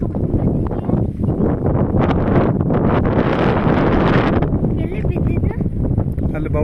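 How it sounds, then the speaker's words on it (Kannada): Strong wind blows hard and steadily, a loud rushing roar buffeting the microphone and rising and falling in gusts, with no talk. "ಗಾಳಿ ಬೀಸ್ತಾ ಇದೆ ಜೋರಾಗೆ."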